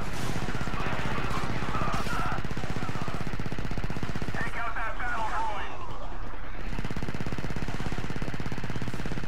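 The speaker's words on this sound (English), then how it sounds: "let's use this chain gun" A chain gun fires in rapid, sustained bursts in the Star Wars Battlefront 2 video game, the shots coming thick and dense for several seconds. They are mixed with game effects and fade near the end.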